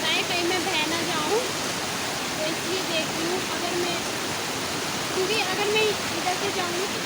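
A river rushes with a loud, dense, unbroken roar of flowing water, and a voice speaks faintly beneath it.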